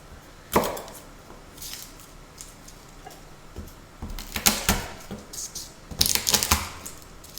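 Garlic cloves are diced with a knife on a cutting board, giving scattered sharp chops and clusters of rapid taps, the busiest bursts near the middle and end, close-up with no talk over them.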